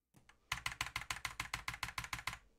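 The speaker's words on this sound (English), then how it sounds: "I'm gonna press my keyboard really hard" A computer keyboard is struck hard in a rapid, evenly spaced run of about fifteen loud, close keypresses, each a sharp clack with a quick decay.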